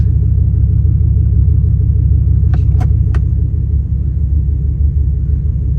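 Dodge Ram truck with a newly replaced shift solenoid and fresh transmission fluid, its engine rumbling steadily and close up, with three brief sharp clicks partway through.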